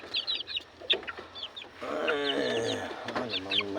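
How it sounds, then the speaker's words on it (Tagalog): Backyard chickens clucking and chirping close by, several short calls and then a longer, louder stretch of overlapping chatter, with no voices. "Ari na itong mga piso ka backyard."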